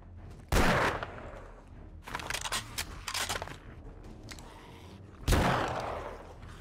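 Gunfire from the 7 Days to Die Wild West mod during a firefight to clear a large fort: a loud close volley, then a cluster of rapid sharp shots, then another heavy blast, with no voices.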